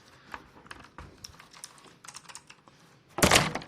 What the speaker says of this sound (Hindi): साउंड सुनो भाई कीबोर्ड का,